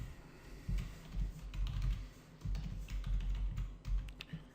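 Typing on a computer keyboard while writing PHP and MySQL database connection code: a continuous run of soft, quick keystrokes with irregular rhythm, close and fairly quiet, with no voices.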